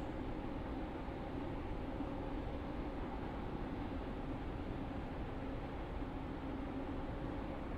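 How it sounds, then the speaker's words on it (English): Four-coach passenger train running in the Roblox game SCR, a steady loud rumble of wheels and motors throughout with no pauses or voices. "This train is formed of four coaches."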